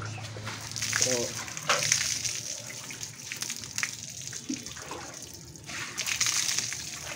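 Running water rinses blood from a freshly slaughtered pig during a rustic home butchering, a steady splashing flow heard under voices talking nearby.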